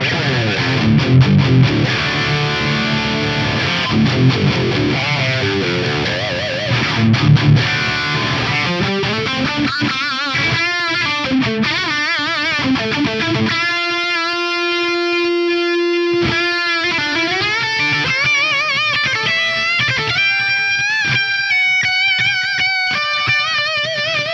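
An electric guitar played through a Fractal FM9 clean boost model plays chords and then sustained single notes with a full, boosted, slightly gritty tone, ringing steadily throughout.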